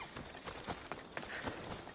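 A horse's hooves clip-clop at a steady pace in Assassin's Creed Odyssey, faint and fairly even, with soft rhythmic footfalls over ambient game noise.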